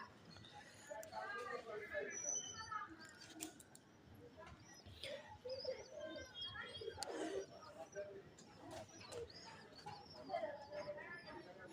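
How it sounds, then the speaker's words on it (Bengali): Pigeons in a home loft in Rajshahi give low, soft cooing calls with scattered wing flutters and small chirps, quiet and close, while a voice speaks faintly at times. "এই দেখুন কবুতরগুলো বের হবে এখন"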